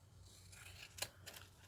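Close, quiet snips of scissors cutting paper while crafting, a few short crisp cuts with one sharper snip near the middle, no talking.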